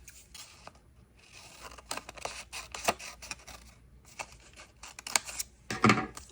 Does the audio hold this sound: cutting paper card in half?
yes